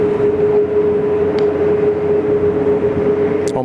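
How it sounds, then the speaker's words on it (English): A Qantas airliner, flight Qantas 1, rolling out at Sydney Airport: a steady low engine roar with a constant tonal whine, loud and unbroken, with a faint brief chirp near the end. "Here's our Qantas 1 just rolling out as well."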